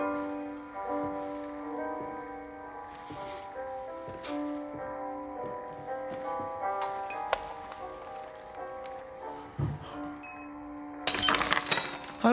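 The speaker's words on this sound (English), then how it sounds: "If I drop a glass on the floor, you pick it up." A glass is dropped and shatters on the floor in a pub scene from a period TV drama. The brief, bright crash comes near the end, after a long stretch of sustained music with faint clinks.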